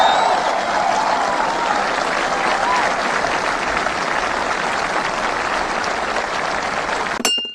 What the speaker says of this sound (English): Applauding lies.